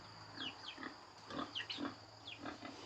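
Black pigs in a breeding sow pen, crossbred with wild boar, grunt and squeal in short repeated bursts at close range over a steady background hum.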